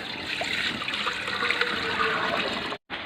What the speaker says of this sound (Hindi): पतीली को मैंने रखा चूल्हे पर और हम दूध डालेंगे सबसे पहले